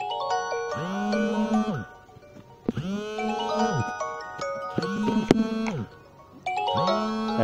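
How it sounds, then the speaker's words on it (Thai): A phone ringtone for an incoming call plays a bright melodic chime phrase that repeats about four times with short gaps, loud and close. "สมมุตินะครับก็คือมีสายโทรเข้ามานะครับท่านผู้ชม"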